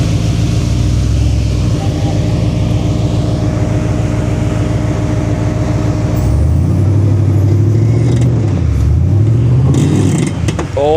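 Off-road 4x4 crawling on rocks with an ARB locker engaging and a front hub spinning. The engine drones loud and close, then revs climb and fall with whining drivetrain noise, and no voices are heard.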